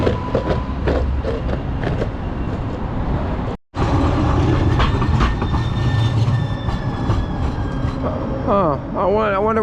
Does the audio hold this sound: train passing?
yes